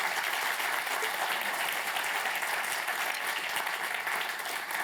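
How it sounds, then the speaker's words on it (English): A conference audience at UX LIVE 2018 applauds for several seconds, a dense, even wash of many hands clapping with no voices over it. "Round of applause, please."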